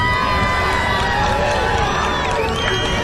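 A packed outdoor crowd at a Halloween pumpkin boat race, a dense continuous roar of voices, cheers and children's shouts, loud and close, with overlapping chatter and no clear single speaker.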